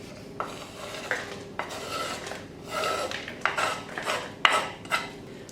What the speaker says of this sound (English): we're just going to mix this up until there's no loose flour left and it's a nice dough